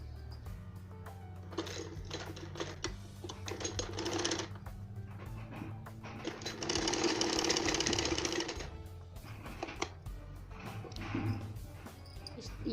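Sewing machine stitching a double-folded fabric strip for a blouse belt, running in several sustained bursts with a steady whirring drone and short pauses between runs, close and moderately loud.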